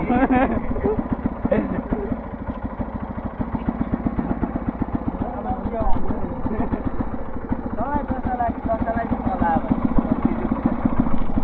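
A motorcycle engine, recently submerged with a wet filter, idles with a steady, rapid low putter, continuing throughout while people talk over it.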